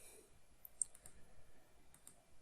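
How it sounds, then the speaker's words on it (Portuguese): Faint, sparse mouse clicks, a handful of isolated ticks, come from a computer while a curved path is drawn with the pen tool in Inkscape. "Quando chegar ao final, eu faço duplo clique."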